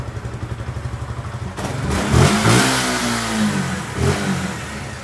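A Suzuki Gixxer motorcycle that has trouble starting cranks with a steady pulsing starter, then the engine catches and revs loudly up and down a few times, close by with no talking.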